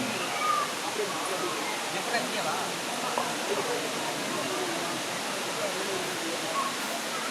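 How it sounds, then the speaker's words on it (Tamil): Jalagamparai waterfall pours steadily, a dense, even rushing roar of falling water that fills the whole scene without letting up. "ஜலகம்பாறை ஃபால்ஸ் வந்தாச்சு"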